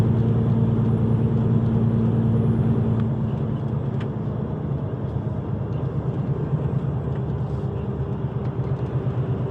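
A truck rolling along a small quiet road in France, giving a steady low engine rumble and road drone that eases slightly after the first few seconds, heard from inside the cab with no talking.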